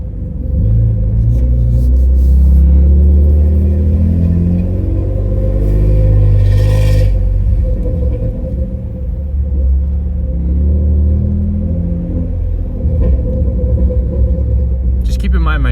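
Deep, loud exhaust rumble inside the cab of a manual Toyota Tacoma with URD extractor pipes and a Y-pipe, windows down, rising and falling with revs over a long stretch while someone talks over it intermittently.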